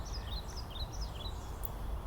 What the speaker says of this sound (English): Can you hear all the birds singing?